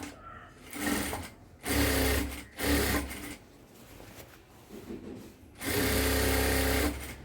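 A sewing machine stitches a dress top in bursts of rapid, steady running, stopping and starting between seams, close and loud with no talk over it.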